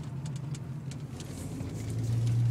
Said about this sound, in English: The vibration noise that I can't figure out what the hell is wrong with it.